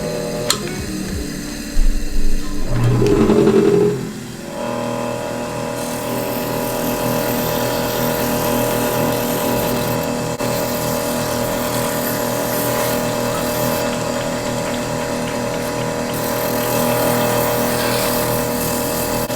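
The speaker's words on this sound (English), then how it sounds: "so now we are ready to burnish" A TandyPro variable speed burnisher running in a workshop, a steady electric motor hum with a whirring tone that holds for most of the span after a brief bout of handling noise at the start.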